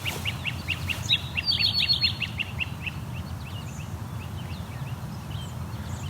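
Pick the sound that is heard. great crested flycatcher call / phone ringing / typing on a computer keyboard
great crested flycatcher call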